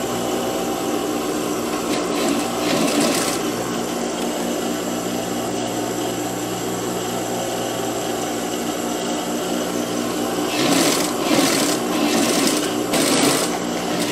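Sewing machine running steadily while topstitching a folded fabric strip for a child's dress, a continuous close whirring drone with brief pauses and speed changes, no talking.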